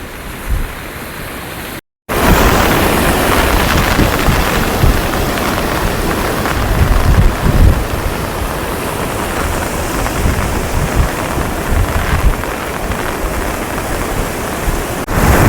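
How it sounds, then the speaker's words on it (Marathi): Floodwater of the Girna river pours over temple steps in a loud, continuous roar of rushing water, broadband and steady after a brief cut near the start. "त्या पायऱ्यावरून पण पाणी खूप जाऊ राहिलंय"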